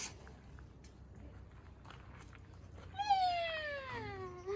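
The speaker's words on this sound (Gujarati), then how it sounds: "રિસોર્ટ એક મસ્તીની નાની એવી બિલાડી છે" A small, friendly resort cat gives one clear, drawn-out meow with a falling pitch, close by, after a few seconds of quiet room ambience.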